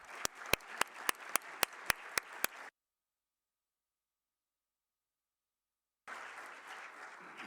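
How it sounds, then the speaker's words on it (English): Audience applause at a lecture: a sustained round of clapping with several sharp accented claps, then a few seconds of silence before a second burst of clapping resumes. "warm round of applause"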